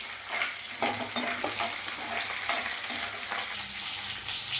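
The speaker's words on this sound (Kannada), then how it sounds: "ಈ ಆನಿಯನ್ ಏನು ಕಟ್ ಮಾಡಿ ಇಟ್ಕೊಂಡಿದ್ದೀವಿ ಅದನ್ನು ಸ್ವಲ್ಪ ಫ್ರೈ ಮಾಡ್ಕೊಳ್ತೀನಿ" Chopped onion frying in oil in a pan for a spicy paneer fry gives a steady, close sizzle with intermittent scraping stirs and no talk.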